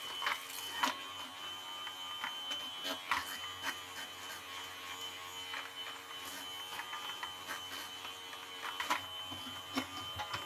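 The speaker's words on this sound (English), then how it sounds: "I was gonna run this razor on it, shaver, and see if it comes up" A small electric fabric shaver buzzes steadily nearby with a whirring motor, punctuated by scratchy bursts as it passes over pilled clothing.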